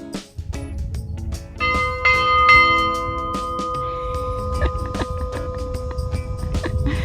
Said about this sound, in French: alors, la cloche va bouger et sonner